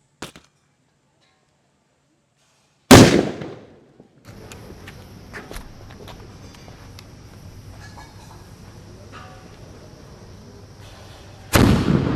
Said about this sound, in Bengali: তো এইবার আমরা গাইজ চেক করব সব থেকে বড় বম।